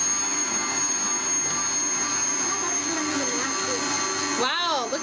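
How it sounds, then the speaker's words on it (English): An electric mixer mashing bananas in a bowl for banana bread, a continuous whining motor hum that rises briefly in pitch near the end, up close with some speech underneath. "You can just turn your mixer up a little bit."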